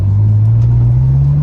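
Ferrari California V8 engine idling loud and close just after starting, a steady deep rumble with slowly rising pitch, heard alone.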